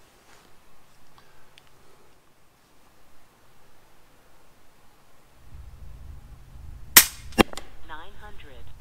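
An FX Impact air rifle firing a slug outdoors at a 100-yard target: after quiet rustling and a low hum, one sharp crack sounds, then a second clap and a faint chirping tail.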